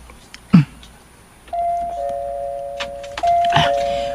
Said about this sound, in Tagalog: Mag-doorbell ako.